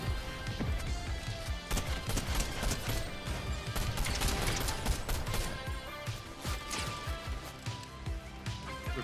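Semi-automatic gunfire in the Fortnite video game, a busy run of sharp cracks and impacts layered over constant game noise and music, loud and close, with no clear pause between shots.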